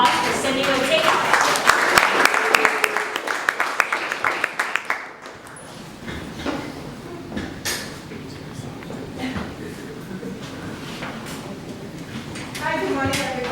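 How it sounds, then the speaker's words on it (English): Audience applause at a festival event, a burst of clapping that fades after about five seconds, followed by a presenter's voice over a quieter room. "please give a warm round of applause"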